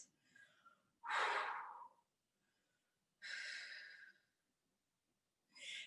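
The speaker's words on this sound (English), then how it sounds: "Nice big deep breaths." Big deep breaths during a bodyweight workout: three loud, close, forceful exhales, the first long and heavy, separated by quiet pauses with faint softer breathing.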